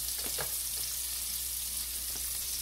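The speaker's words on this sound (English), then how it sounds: "let me go ahead and throw in my onions. Let them start browning a little bit." Half a medium onion sizzles in a frying pan as it starts browning for Cajun shrimp and grits, a steady hiss with a few soft stirring taps, close and without talk.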